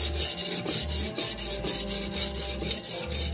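A 3 Ram #1 cleaver's bevel being sharpened at the heel, with steady, close back-and-forth rasping strokes on a stone in an even rhythm of about three per second, no talk.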